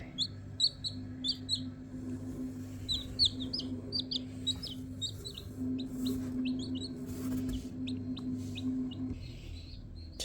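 Domestic chickens kept in a yard, one of about twenty, give short chirps and soft clucks in quick clusters over a low steady hum, fairly faint and fading toward the end.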